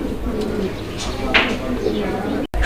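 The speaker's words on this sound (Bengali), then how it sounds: "আমরা এই মুহূর্তে দেখতে পাচ্ছি এখানে একদম ফুল ডান্সিং এক জোড়া কবুতর।" A pair of black pigeons cooing while displaying, soft repeated throaty coos close by amid a busy background with other birds and people talking nearby.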